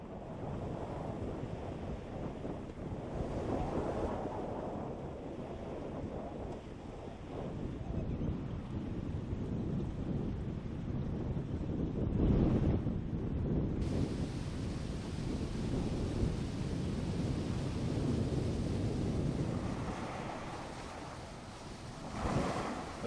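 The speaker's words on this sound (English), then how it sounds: "In Yadgir, the Basaveshwaranagar dam has reached full capacity and water has been released from it." Released water from the full Basaveshwaranagar dam in Yadgir roars in a steady, dense rush with heavy wind-like noise, continuous and loud throughout, no voices.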